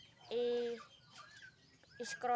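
Pigeons being fed, with a couple of short, fairly loud tonal calls near the start and end, low background noise between and no talking.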